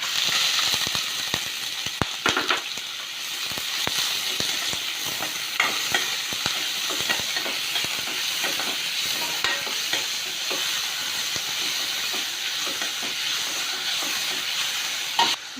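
Onion, cinnamon bark and cloves fry in hot oil, giving a close, steady sizzle for the length of the clip. Frequent scraping and clinking of a spoon stirring the pan sits on top, and no voice is heard.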